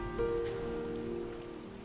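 Rain falling in the video game Final Fantasy XIV, a soft steady patter under a sustained musical tone, continuous and fairly quiet throughout.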